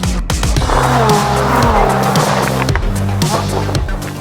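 Lamborghini Huracan driving on a road near the sea in Bhubaneswar, India, its engine droning loudly and steadily throughout with shifting revs and tyre roar, close and continuous with no talk.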